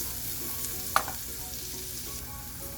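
Onions frying in a pan for a beef quesadilla, with a continuous moderate sizzle and one sharp clink of a utensil near the start, and no talking.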